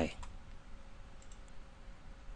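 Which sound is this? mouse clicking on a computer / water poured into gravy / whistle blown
mouse clicking on a computer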